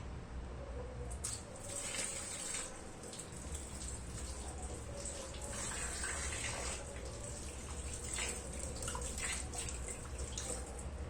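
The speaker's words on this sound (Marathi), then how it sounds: "अजून पण पाण्याने धुते" Running water splashes steadily throughout, with scattered clatters and drips as potatoes are rinsed under a flowing stream.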